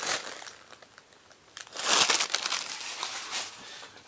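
A Reese's peanut butter cups wrapper crinkles as it is unwrapped, close, crackly rustling that swells into a louder burst of crumpling midway, then continues more softly.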